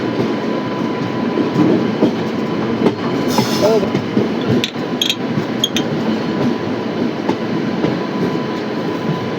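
The Rajkot–Porbandar passenger train arrives at Virpur station with a steady rumble and clatter of rolling carriages, interrupted by a few brief squeals and clanks. A voice speaks briefly over it.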